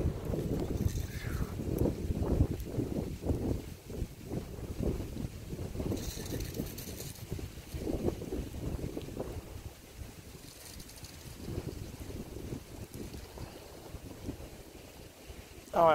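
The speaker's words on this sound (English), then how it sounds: "Oh, it's getting windy." Gusty wind ahead of an approaching summer thunderstorm buffets the microphone in a steady, rumbling roar that swells and eases in waves, with no clear voices.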